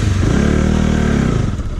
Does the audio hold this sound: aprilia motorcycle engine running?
yes